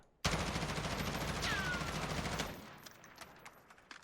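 Rapid automatic fire from an M4 rifle fitted with a compensator in the video game Warzone, a loud sustained burst of about two seconds that cuts off, leaving a faint tail and scattered ambient clicks.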